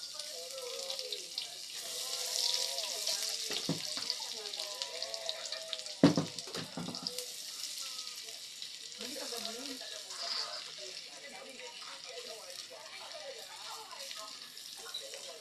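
Onions and garlic sauté in a home kitchen pan for pakbet, a steady faint sizzle running throughout with some clatter and water sounds, while people talk over it.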